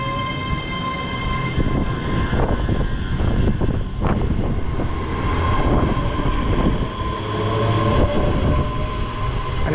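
A six-coach Class 385 electric train stands at and moves through Drem station, giving a steady, loud rolling rumble with a tonal motor whine and clanks from the carriages that continues throughout.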